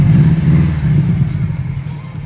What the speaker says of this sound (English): Sound of a Subaru is just a very satisfying one.